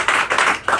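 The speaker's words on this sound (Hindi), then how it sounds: "एक बार इस जादू के पिटारे के लिए जोरदार ताली बजा दीजिए।" Audience clapping in short loud bursts at a talk about RCM products, several swells of applause in under a second.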